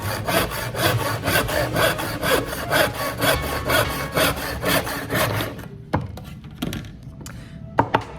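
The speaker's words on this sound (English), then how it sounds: "when using a tenon saw, we just have to use nice long strokes like this" A tenon saw cuts through timber in long, steady back-and-forth strokes, a loud close rasping rhythm that stops near the end, followed by a few sharp taps and knocks.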